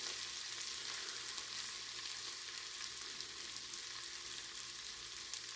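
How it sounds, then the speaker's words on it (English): Onions sauté in a pan for chicken stew, giving off a steady, even sizzle with a constant crackling hiss and no breaks, close by and without any voices. "what I'm doing here is sauteing the onions so they're transparent"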